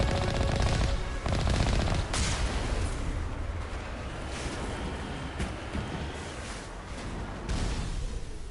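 An Alliance heavy turret fires in the video game Mass Effect, dense rapid bursts of automatic gunfire with sharp heavier impacts near 1 and 2 seconds, continuing loudly throughout.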